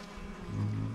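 Insect buzzing from several honeybees flying out of hives, a dense low hum that swells louder toward the end of a brief moment.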